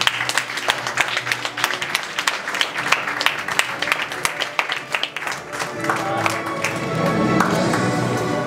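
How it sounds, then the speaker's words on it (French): Audience applause for Gosier mayor Cédric Cornet at a civic reception, a dense crackle of clapping throughout that swells louder and fuller toward the end, with some crowd murmur mixed in. "Je vous demande d'applaudir M. Cédric Cornet."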